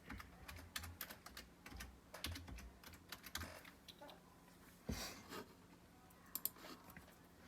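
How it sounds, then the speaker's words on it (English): A password typed on a computer keyboard, giving quiet, irregular key clicks in short bursts with a few louder taps, close by and without speech. "type in the password"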